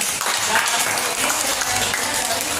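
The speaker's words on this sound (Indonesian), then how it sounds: "Iya, tepuk tangan ya." Students in a school classroom clap together, a short, dense and fairly loud burst of hand clapping filling the room.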